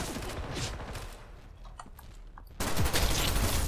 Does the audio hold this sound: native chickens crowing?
no